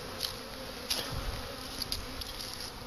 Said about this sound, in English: This is hive 3. This is my strongest hive.